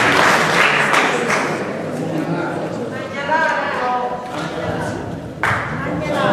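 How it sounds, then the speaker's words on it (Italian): An audience applauds a young man at a canto a braccio event, a loud burst of clapping that eases off and then swells again, with voices mixed in. "facciamogli un applauso a questo giovane Civica Lorenzo di Sant'Iberto."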